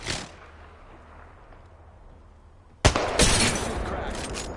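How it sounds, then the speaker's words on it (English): Gunfire in the video game Apex Legends opens with a sharp sudden crack, then continues as a loud, dense rattle of shots after a quieter stretch of ambient game noise. "They're shooting at me!"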